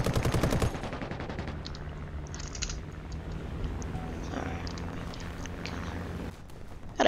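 Rapid machine gun fire from a Churchill Crocodile tank in a video game rattles in a long sustained burst at the start, then continues as distant scattered shots under engine rumble.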